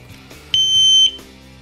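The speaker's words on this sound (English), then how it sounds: "One beep means the alarm is activated." A single loud, steady electronic beep lasting about half a second sounds from a Kovix KCL10-110 alarmed chain lock as its alarm is activated, heard up close on its own.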